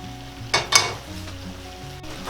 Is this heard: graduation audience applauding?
no